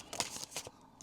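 Tarot cards shuffled by hand in a few quick, close riffling bursts, faint and uneven over about a second.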